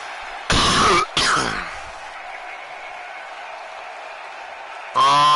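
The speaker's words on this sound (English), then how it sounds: "Sorry about the cough." A man coughs loudly twice in quick succession close to the mic, followed by quieter background noise and a burst of talking at the end, during a live amateur wrestling show.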